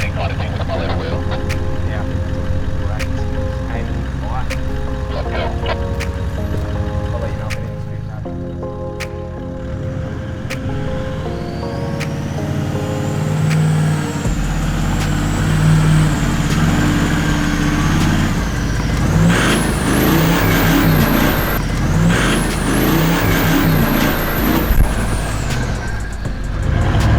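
A 4WD vehicle climbs a steep washout on the rough Old Coach Road in Cape York Peninsula, its engine loud and labouring with shifting revs, building into a strained, rising whine and heavy rumble toward the end.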